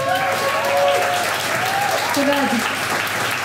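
Community night audience clapping steadily and close, a dense wash of applause with a voice speaking over it.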